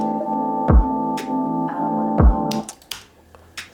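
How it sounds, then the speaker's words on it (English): A clap drum sample played back in music production software, sounding as two sharp, bright hits about a second and a half apart over a sustained synth tone, followed by a few scattered crisp transients. "This is a clap, but it's labeled switch."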